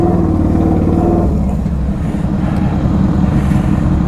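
Heavy road vehicles such as buses roll past on a hot summer street, a loud steady low engine rumble and tyre roar that shifts in tone partway through as one passes close by, with no talking.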